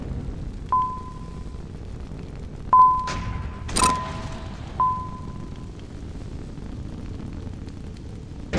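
Missile fire and explosions in the space combat game Nebulous arrive as a few dull booms and thumps, spaced a second or so apart, amid sharp electronic pings and a low ambient hum.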